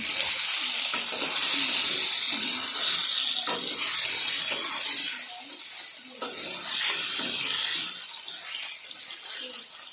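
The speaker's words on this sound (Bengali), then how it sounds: "এখন হচ্ছে আমি তেলে এগুলোকে ভেজে নেবো" Potatoes coated in salt and turmeric sizzle in hot oil, a dense continuous hiss with small crackles that eases briefly partway through and then picks up again.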